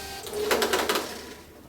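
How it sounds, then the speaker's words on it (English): A receipt printer on a Casio SES 2000 cash register runs a short printout, a rapid burst of buzzing, rattling line-feed pulses lasting about a second, close and clear with no talking. "there'll be a printout from the receipt printer"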